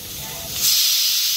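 Steam bursts from a pressure cooker whistle on a gas stove, a steady hiss that swells louder partway through and holds as a close, continuous rush of escaping steam.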